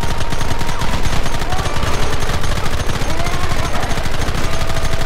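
Dense, relentless gunfire rattles through a Red Dead Redemption battle, rapid overlapping shots forming a loud continuous barrage with no pauses.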